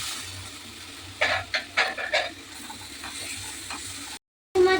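Prawns fry in a pan of spice masala made with salt, turmeric, chaat masala and garam masala, a soft sizzle under a series of close, rhythmic stirring scrapes before the sound cuts out briefly.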